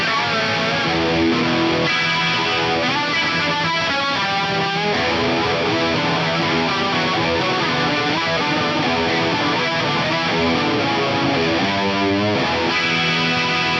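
Electric guitar played through an Electric Mistress flanger model on a Line 6 Helix Stadium, loud sustained chords with a sweeping, swirling modulation and distortion running continuously without talk.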